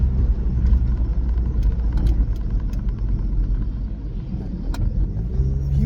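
A car moving along a road gives a loud, continuous low rumble with engine noise close by, steady throughout with no speech.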